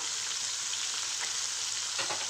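Fish coated in masala fries in a pan with a steady, close, loud sizzle and crackle that runs unbroken throughout, no voices over it.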